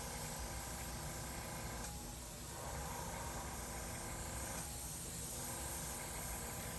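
An airbrush sprays paint in a steady soft hiss while dusting over areas of a cloud and water painting, with two brief dips as the trigger eases, faint and close.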